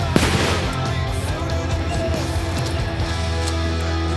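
An M14 rifle firing at an outdoor target range, a loud sharp report at the start followed by ringing echo and steady background noise.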